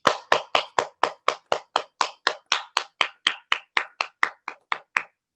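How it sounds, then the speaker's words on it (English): At a volunteer awards ceremony, a single pair of hands claps close by in a steady, evenly spaced run of about twenty crisp claps, with no other sound between them. "Let's give them another round of applause"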